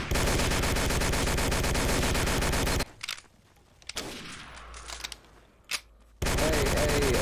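Dense, continuous rattling gunfire in a video game cavalry battle, rapid overlapping shots for several seconds, then a quieter stretch of scattered distant shots and thuds before the heavy volley resumes.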